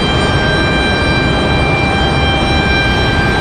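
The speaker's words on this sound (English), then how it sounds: "Looks like our next arrival is going to be Republic Airways 4567 coming in from Nashville, Tennessee here in just a minute." A Republic Airways Embraer E175 airliner arrives from Nashville at Raleigh-Durham International Airport as a loud, steady broadband engine roar with a thin high whine on top, sustained and unbroken with no talking.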